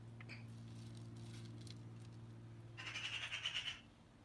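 Birds chatter and squawk noisily from about 2.8 to 3.8 seconds as they feed on berries in a neighbor's tree, a burst of bright calls over a steady low hum.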